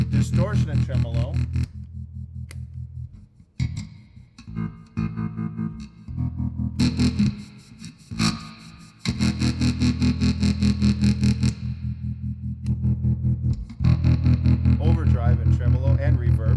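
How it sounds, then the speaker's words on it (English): Distorted electric guitar through a 1970s Peavey F-800G Super Festival Series amp with tremolo on, loud strummed chords and short riffs throbbing in a quick regular pulse, pausing briefly between phrases, no voices. "Distortion and tremolo."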